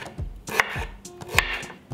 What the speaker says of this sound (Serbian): I iseckat ću džumbir.